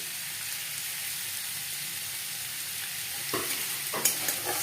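Cut potatoes fry in oil over a gas flame with a steady, bright sizzle. A few louder scraping stirs come near the end, close up and with no talking.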